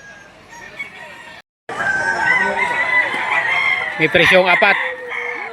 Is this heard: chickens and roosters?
yes